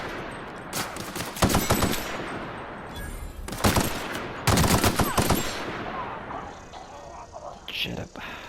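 Automatic gunfire in The Outer Worlds, with several loud rapid bursts separated by pauses and a voice talking faintly in between.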